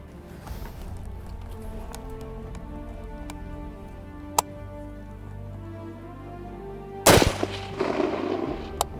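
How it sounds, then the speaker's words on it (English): An M1D Garand sniper rifle fires at a reduced-size steel target 405 yards away outdoors, with faint sharp cracks early on and one loud blast later followed by a rumbling echo. "We're gonna be taking a shot at the reduced size steel and"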